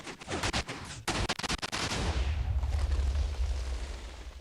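A gun test-fires a burst for a 32x4x2 sand plate compression check: a loud rapid string of sharp shots in the first second and a half, then a low rumbling tail that lingers and fades, with no talking.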